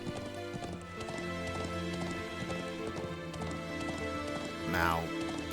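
Horse hooves clip-clopping at a steady gait during riding in the game Trails into Reverie, a regular rhythmic patter set under sustained background music with a brief swooping effect near the end.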